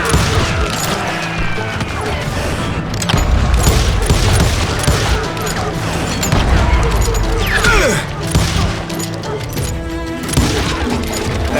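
Rapid gunfire from a Wild West shootout in the Call of Juarez: Gunslinger video game, with dense overlapping shots, booms and crashes filling the scene while a voice calls out over the din.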